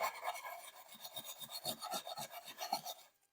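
Sandpaper rubbing corrosion off an aluminium spark plug cover from a C20XE/C20LET engine, a close, steady run of quick rasping strokes that stops abruptly at the end.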